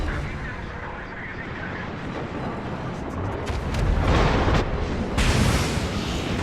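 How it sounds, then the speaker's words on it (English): Secondary naval guns fire a steady barrage in World of Warships, rumbling booms and blasts building louder toward the end, with someone talking underneath. "it's just a constant barrage of secondary guns at the enemy"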